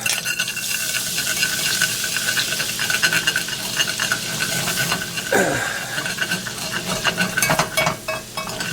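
Butter melts and sizzles in a pan as the base for a roux for a Woolton pie. A steady close sizzle runs under repeated scraping and stirring strokes.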